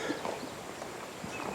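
Horse hooves clip-clop softly and at a distance during a ground training session, under a steady wash of outdoor background noise and without speech.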